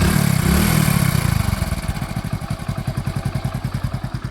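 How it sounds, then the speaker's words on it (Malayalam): A motorcycle engine runs close by, starting with a loud rough roar and settling into an even idle with a steady, rhythmic chugging pulse. Nobody speaks. "എഞ്ചിൻ്റെ സൗണ്ട് കാര്യങ്ങളൊക്കെ നോക്കുമ്പോൾ വലിയ സംഭവമൊന്നുമില്ല."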